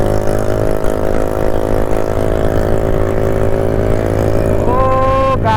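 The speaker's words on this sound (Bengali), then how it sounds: "ফুল এক্সজস্ট ফাটাচ্ছে" A motorcycle engine with a full exhaust system running loud and close in a steady drone on a highway, with a rising tonal whine near the end, no one talking.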